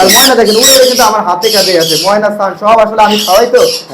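Loud, harsh squawking from young Yellow Ringneck and African parrot chicks, repeated calls overlapping continuously with no pauses.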